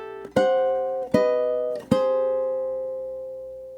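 An eerie fingerpicked ukulele etude in a Halloween mood, three plucked notes or chords struck at a loose steady pace, each ringing out, the last left to sustain and fade, close and clear with no talk.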